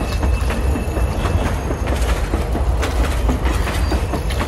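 A train rolls along the rails with a loud, continuous rumble and a rapid clickety-clack of wheels over the track joints, steady throughout with no voices.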